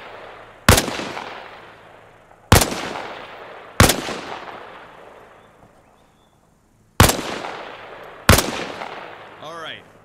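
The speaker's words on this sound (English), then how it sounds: "Position yourself behind the wall and lean out while firing." Gunfire in the video game Arma Reforger, shot from behind a wall: five loud, sharp single reports at uneven intervals, each with a long fading tail and a brief lull between.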